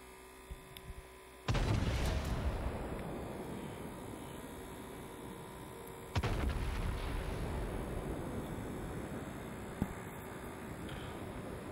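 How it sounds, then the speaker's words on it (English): Naval guns of the Yugumo firing at battleships in World of Warships: two heavy booming salvos several seconds apart, each a sudden loud blast trailing into a long rumbling decay over a steady background hum, with no talking. "I'm still trying to fire at the battleships that are behind me"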